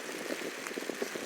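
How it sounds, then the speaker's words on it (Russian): Steady rain falling in Galicia, Spain, a soft even hiss of drops with faint pattering taps, fairly quiet and continuous, with no talk. "Правда, идет дождь, как это часто бывает в Галисии"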